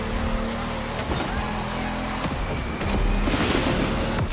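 A race car engine in The Crew Motorfest roars steadily and close, with a dense rasping drone and tire and road noise that swells slightly toward the end.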